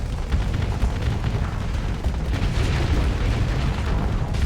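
Torpedo explosions pile up in a space battle in the game Starsector, a loud, continuous rumble of overlapping blasts and booms with no clear gaps.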